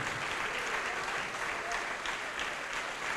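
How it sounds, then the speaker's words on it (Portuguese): Church congregation clapping steadily throughout, a dense continuous round of applause with no pauses, filling the space at an even level. "Dê uma salva de palmas"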